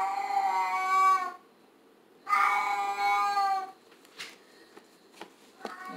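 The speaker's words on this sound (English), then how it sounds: "Guys, excuse the sound in the backdrop. It's my daughter's cat and always driving me nuts." A house cat meows in two long, loud, drawn-out calls in a home kitchen, with a few fainter short sounds between and after them.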